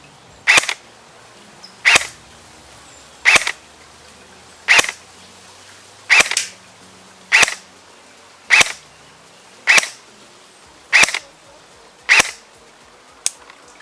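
A KWA Ronin PDW airsoft gun on its highest FPS setting fires 0.28 gram BBs in ten evenly spaced single shots, each a sharp, close snap with a brief mechanical clack, separated by quiet gaps.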